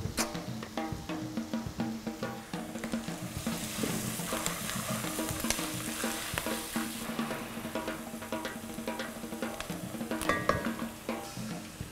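Soaked black chickpeas fry with spices in a pan, giving a steady close sizzle broken by the scrape and clink of stirring throughout, with no voices.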